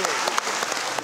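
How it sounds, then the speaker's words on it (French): An audience applauds at the close of a Las Vegas-style stage show in Alsace, a brief burst of thick, continuous clapping from many hands filling the room. "Le spectacle s'achève sous une pluie d'applaudissements."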